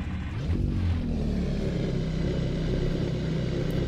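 A BMW E30 with a five-speed manual starts up in a brief low cranking burst, then settles into a steady, rumbling idle. The running engine stays moderately close and constant.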